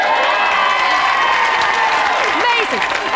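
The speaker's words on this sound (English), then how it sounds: "I think we could give him a round of applause." An evening audience at a royal-patronage event breaks into steady, dense applause mixed with cheers and a few whoops, loud and close throughout.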